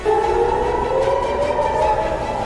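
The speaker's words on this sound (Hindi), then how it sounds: "पूरे इलाके में सायरन बजने लगता है" An air raid siren wails across an area struck by an Iranian attack, a loud steady sustained tone slowly gliding in pitch, heard alone throughout.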